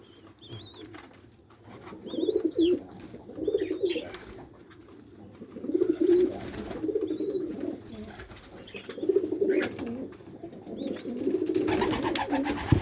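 Doves coo in repeated low phrases at a nest where a red-collared female and a male with a black ring are feeding their squabs, with faint chirps and occasional wing flutters between calls.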